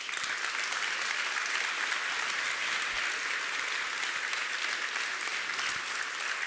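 An audience applauds at the DesignEuropa 2024 award ceremony after a Lifetime Achievement Award: loud, sustained, even clapping from a large crowd that fills the room without pause.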